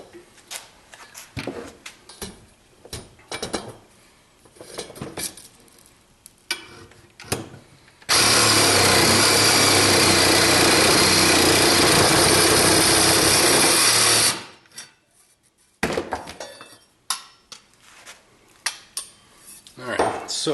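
Copper plumbing pipe cut for scrap with a power tool, a loud steady grinding, whining cut lasting about six seconds between scattered clinks and handling of metal pieces.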